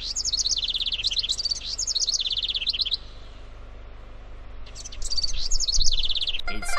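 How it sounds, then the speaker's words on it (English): Bright, rapid bird chirps and trills in repeated bursts, two birds singing close by with a short pause between phrases, in a Dora the Explorer PC game. "It's two happy birds singing."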